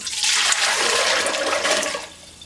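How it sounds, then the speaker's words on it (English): Fresh water rushes and splashes steadily into a steam juicer for about two seconds, a loud, broad pouring wash that tapers off at the end, with no talking. "Just going to put in some fresh water"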